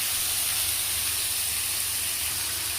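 Cabbage and capsicum hit hot oil in a pan, giving a steady, loud, close sizzle and hiss that holds evenly throughout with no talking.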